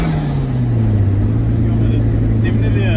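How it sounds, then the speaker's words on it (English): Toyota MR2 with a 3SGTE turbo engine running inside the cabin, a steady droning engine tone that slowly drops in pitch, loud and close, without clear speech. "what's nice about the turbo sounds of those cars, because everything's right there by your ears"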